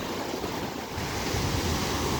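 Sea waves on the beach at Prymorsk in Odesa Oblast, Ukraine, wash in as a continuous loud roar of surf with some wind noise on the microphone, swelling slightly after the first second.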